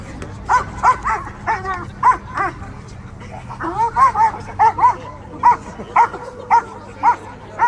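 A police K9 dog barks repeatedly at a demonstration, loud close yaps and bow-wows in a fast uneven rhythm with brief whimpering between bursts, over a low background hum.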